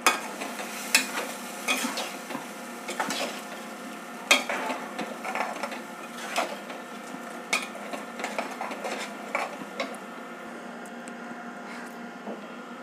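Tamarind puliyogare paste for Navaratri prasadam simmering and being stirred in a pan: a steady low bubbling sizzle with repeated spoon scrapes and clicks against the pan, close and moderately loud.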